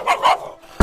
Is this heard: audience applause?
no